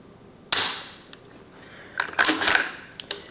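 A rifle trigger clicks and the gun fires on a range: a sharp, loud report at the start, followed by several crisp mechanical clicks and clacks from the action, close and with no talk.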